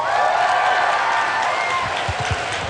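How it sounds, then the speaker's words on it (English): A large convention crowd at BlizzCon 2009 claps, cheers and whoops loudly at once, a dense sustained roar with a few louder shouts near the end. "Applaud if you're from another country."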